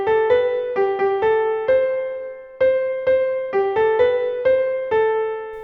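A short melody played back as notated on a Christmas decoration, clear plucked or chimed tones in a bright tinkling timbre, several separate phrases of repeated and stepwise notes with brief gaps, alone and without voices.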